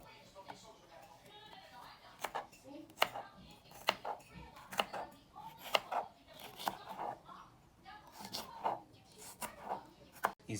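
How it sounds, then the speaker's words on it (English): A knife chops through a tomato on a kitchen board while making a homemade meat pizza, giving a series of sharp, irregular cuts with short pauses between them. "Then you chop this entire one."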